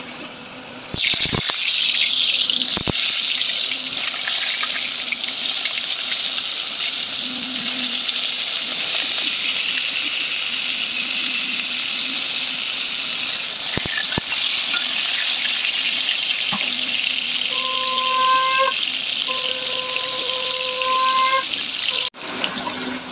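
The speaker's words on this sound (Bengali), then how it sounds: "লাল লাল করে পটলগুলো ভাজা হয়ে গেছে" Pointed gourd (potol) frying in oil in a wok over a gas flame, a steady loud sizzle running almost throughout, with a few brief tonal beeps near the end.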